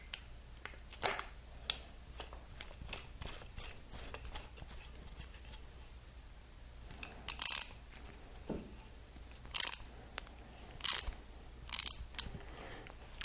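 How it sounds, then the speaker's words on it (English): A ratcheting wrench tightens a bolt with washer on a gun wall display bracket, sharp close clicks in short irregular bursts with quiet pauses between, no talking. "Get this started with the wrench."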